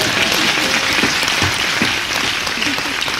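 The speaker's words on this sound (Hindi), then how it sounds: "पहरेदार के जवाब पर आपकी तालियां चाहिए साहब" An audience claps at a satire performance, producing dense continuous applause that stays steady and loud for a few seconds.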